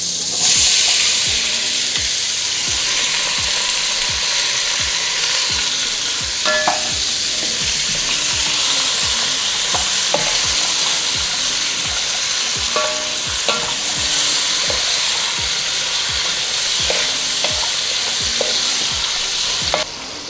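Vegetables and onions fry in a pot with beef neck bones, a loud, steady, close sizzle with repeated scraping and clicking from stirring throughout.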